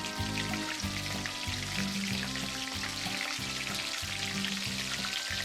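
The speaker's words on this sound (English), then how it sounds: "Put flour mix one more time and fry" Flour-coated battered food deep-frying in cooking oil at 190 °C, a steady dense sizzle and crackle running loud and close throughout with no talking.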